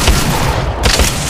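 Dense gunfire hits the player in the Apex Legends Mobile video game, a loud continuous barrage of overlapping shots and booms across the whole short burst, with no voice over it.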